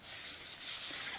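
A rag rubs around the edges of a farmhouse sink drain with a brief, soft, continuous scrubbing friction, close and quiet, lasting about a second.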